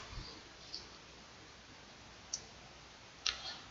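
A computer mouse clicks on an email compose button, giving four faint, sharp clicks spaced irregularly over a quiet background.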